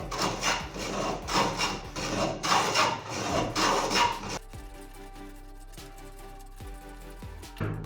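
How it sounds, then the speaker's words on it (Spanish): A hand plane shaves a piece of wood that was bent by boiling, giving repeated rough rasping strokes in quick succession up close, followed by a quieter stretch of faint knocks and handling. "vamos a cepillar la pieza"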